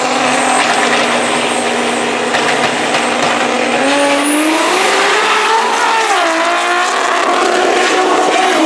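Two Toyota Supra MK4 cars with 2JZ engines drag racing on a street strip, loud roaring engines revving and rising in pitch as they accelerate away, with a brief tire squeal, heard alone.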